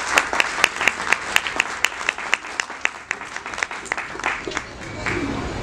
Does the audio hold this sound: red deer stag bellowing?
no